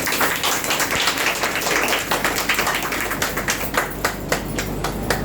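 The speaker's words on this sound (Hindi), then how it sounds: "मैं चाहती हूँ एक बार जोरदार तालियां हो जाए" An audience at a women's empowerment event bursts into dense, sustained applause, many hands clapping steadily with sharp individual claps standing out as it gradually thins toward the end.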